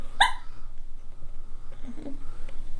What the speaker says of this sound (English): It's called the hiccups.